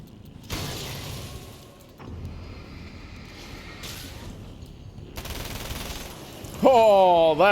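Submachine gun fire in Alan Wake's American Nightmare, a video game, comes as several loud, rapid bursts spread across the clip. A sharp, whining effect rises near the end, and faint speech-like sound sits underneath.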